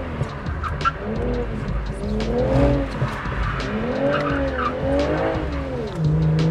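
A BMW G22 M440i drifts, its tires squealing in long rising and falling wails over a steady engine roar that holds close and loud throughout, with no voices.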